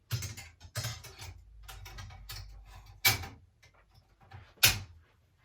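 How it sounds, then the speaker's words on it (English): A fast frame being attached to an embroidery machine, a series of soft clicks, slides and two sharper snaps close by, with quiet gaps between them. "I do have to attach my fast frame to the machine."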